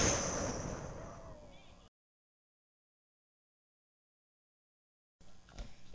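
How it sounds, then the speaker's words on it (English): Explosion destroying a pizza restaurant in an animated talking-cat cartoon: a loud, broad roar that slowly decays over about two seconds and cuts abruptly to silence, with faint noise returning afterward. "You just explode. 3, 2, 1. Explode now."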